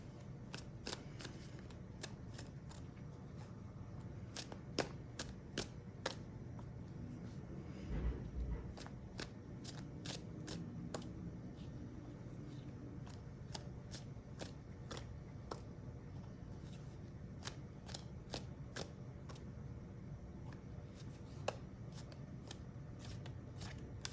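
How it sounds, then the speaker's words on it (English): A deck of tarot cards is shuffled over and over, giving sharp riffling snaps and flutters that repeat at an irregular pace, close up and crisp against a quiet room with no talking. "let's get some tarot cards here"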